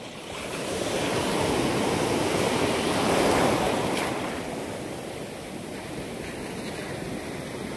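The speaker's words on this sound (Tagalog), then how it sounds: "Malaki ng alon." Large ocean waves roll and crash on the shore, a broad steady roar of surf and hiss swelling in the middle and then easing, mixed with gusting wind noise on the microphone, with no talking.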